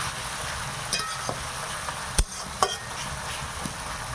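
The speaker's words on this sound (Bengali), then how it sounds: "পেঁয়াজটা ভাজা হোক" Onions fry in a pan with a steady close sizzle, broken by a few sharp clinks and scrapes of stirring.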